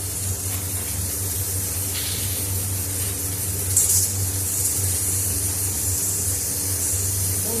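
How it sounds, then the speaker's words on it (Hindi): A smoking tadka for boondi raita sizzles in a pan as a steady bright hiss, with a short louder spurt of crackle partway through and a low hum underneath. "मेरा तड़का तैयार है। ये स्मोकिंग तड़का है।"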